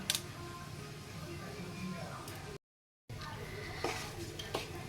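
Panch phoron, a dry red chilli and two bay leaves drop into hot oil in a pan for tempering, giving a soft crackling sizzle with stirring clinks as someone talks over it.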